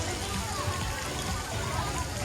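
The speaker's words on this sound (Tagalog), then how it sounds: "Guys, nandito yung wave pool guys." A resort wave pool gives a steady broad wash of splashing water, loud and continuous, with faint voices in the background.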